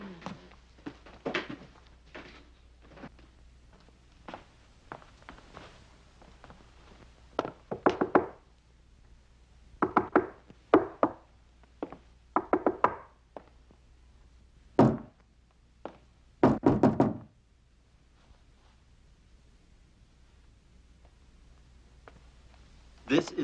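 Knocking on a wooden door inside a house, irregular groups of sharp raps spread over about twenty seconds, some single, some in quick clusters, with pauses of quiet between them.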